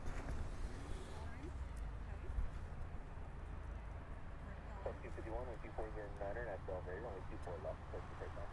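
A jet airliner departing from the south runway at LAX roars as a steady, broad rumble throughout, with a person talking over it in the latter half.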